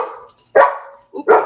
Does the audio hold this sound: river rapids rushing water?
no